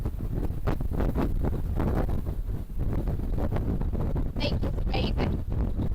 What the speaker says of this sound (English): that's getting really, really strong now, that wind